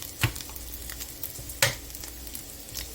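Heavy cream is stirred into crispy bacon in a pan, giving a soft sizzling bed with two distinct scraping clacks of the utensil against the pan, close and moderately quiet.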